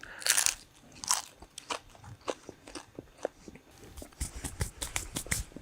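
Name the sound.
crunchy food being bitten and chewed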